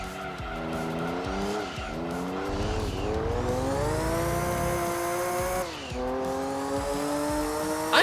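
A Porsche race car in the Gran Turismo 2 video game laps Grand Valley in a 300 km endurance race: a loud, steady, high-revving engine drone with rising and falling pitch, gear-change dips and tyre squeal, with no talk.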